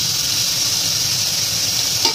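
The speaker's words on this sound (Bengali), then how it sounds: "এবার একটু ভাজা হয়ে গেলে পেঁয়াজ কুচিগুলো দিয়ে দেব।" Chopped onions hit hot oil in a pan for chicken patties, giving a steady, loud, close sizzle that stays even throughout, with a brief stir near the end.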